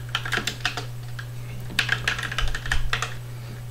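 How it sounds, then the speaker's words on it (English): A password is typed on a computer keyboard at close range, giving a quick, uneven run of light key clicks over a steady low hum. "I think I just typed in my password wrong."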